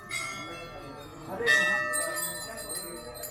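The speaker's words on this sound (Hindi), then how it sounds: "चढ़ाई गई ये घंटी गिरजा प्रसाद कोइराला, और नेपाल के पूर्व प्रधानमंत्री द्वारा चढ़ाई गई ये घंटी।" A metal temple bell at Ghorakhal Temple, Bhowali, rings with a bright, sustained tone amid a faint murmur of surrounding noise; the strike stands out clearly then rings on.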